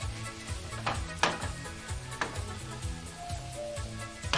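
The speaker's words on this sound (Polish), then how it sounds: "Niech się ten jeszcze smaży." Steady sizzling of food frying in a pan, with a rhythmic scrape and clatter of a utensil stirring against the pan throughout.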